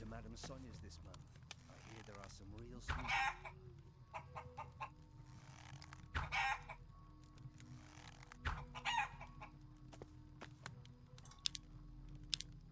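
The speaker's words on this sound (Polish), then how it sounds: "Nie wiem, czy kurczaki mógłbym zabić, święte kurczaki." Chickens cluck and a rooster crows in the RPG video game Risen, appearing in a few bursts over a steady game background with speech nearby.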